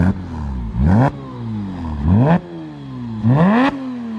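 Stock Porsche 987 Boxster S flat-six heard from outside, three sharp throttle blips rising and falling in pitch with a crisp bark at each peak, close and loud between idle stretches.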